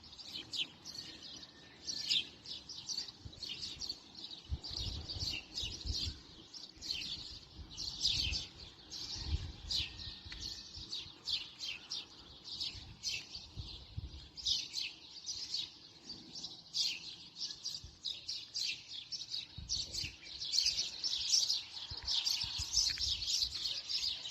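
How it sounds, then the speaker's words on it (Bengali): Many birds chirp and call continuously from rows of trees in a park at night, a dense chorus of overlapping tweets with occasional low rumbles beneath. "এর প্রত্যেকটা গাছে গাছে ভরপুর পাখি আমি কাছে যত আসছি তত তাদের স্পিড ডাকার স্পিড কমছে"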